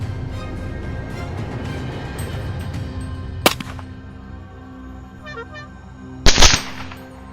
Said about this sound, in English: In the dark night, the gunshots kept ringing, and the saboteurs were eliminated one by one.